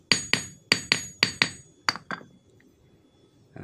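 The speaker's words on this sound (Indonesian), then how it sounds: "posisi besinya ini cukup kurang rapi, jadi kita mau rapikan dulu dengan cara ditimpa" A hammer flattens steel wire for an eel fishing hook, landing about eight sharp metallic strikes in an uneven rhythm that taper off in force, with no talking.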